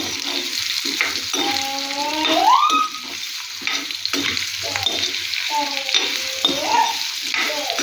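Chopped pumpkin sizzles and fries in a pan as it is stirred, a steady close crackle with scraping strokes and no talking.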